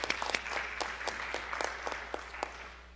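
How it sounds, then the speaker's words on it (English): A small scattering of claps at a school board of education meeting, a handful of separate hand claps spread unevenly over a few seconds, fairly faint and roomy, with a light murmur underneath. "Yes, a little applause."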